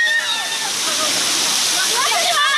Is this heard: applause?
no